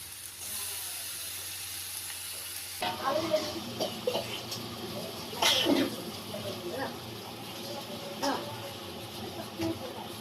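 Yogurt hitting a hot pan for egg biryani, a broad hissing sizzle that jumps in abruptly and keeps going under scattered clatter and stirring noises.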